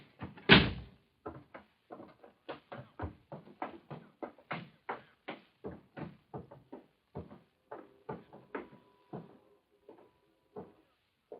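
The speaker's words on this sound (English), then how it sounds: "Careful with that door, you heavy-handed fireman." Door in an old-time firefighters radio drama, handled roughly: one loud bang opens the clip, followed by a steady run of about twenty rhythmic knocks and thuds, close and fairly loud, with no talking.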